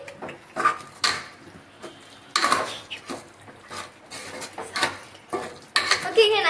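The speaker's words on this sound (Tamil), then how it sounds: "எங்க அம்மா கிண்டிக்கிட்டு இருக்கு" Masala curry being stirred in a pot gives irregular clanks and scrapes of a spoon against the metal. The knocks are close and fairly loud, with short pauses between strokes.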